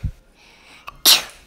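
A single sharp sneeze bursts out loudly near the end, after a soft thump and a brief quiet breath, while building a Lightning McQueen puzzle car.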